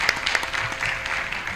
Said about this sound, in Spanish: le damos un fuerte aplauso a los chicos